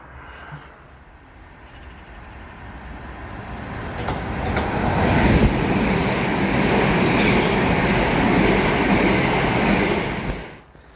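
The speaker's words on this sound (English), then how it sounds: "there should be another fast train coming through heading back up towards London." Fast Thameslink train heading toward London passing through a small station, a broad rushing roar that builds over several seconds, holds steady, then cuts off abruptly.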